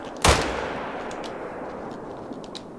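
A single loud rifle shot in a hunting video game aimed at a chamois cracks out sharply and then fades in a long rolling echo, with faint clicks afterward and no talking.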